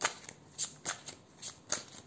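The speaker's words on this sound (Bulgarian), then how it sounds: "Тук ще проверим и с картите Таро." Tarot cards being shuffled by hand, a series of quick riffling snaps and soft flutters in an irregular rhythm, close and fairly quiet, with no voices.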